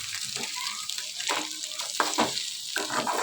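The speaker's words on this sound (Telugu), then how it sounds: "జాగ్రత్తగా కలుపుకుంటూ ఫ్రై చేసుకోవాలి" An egg fry sizzles in a hot pan while being stirred, giving a steady, close, crackling hiss broken by irregular scraping strokes throughout.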